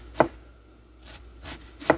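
A knife cuts thin slices of cabbage for sauerkraut, with three distinct, close chopping thuds spaced about a second or more apart against a faint background hiss.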